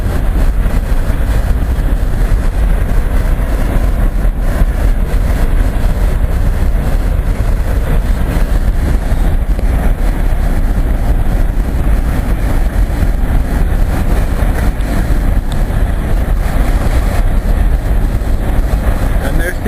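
A freight train on the CN Seaway line rolls steadily past in the evening, with a continuous loud rumble and clatter of wheels on rail. The noise never lets up and has no clear gaps between cars.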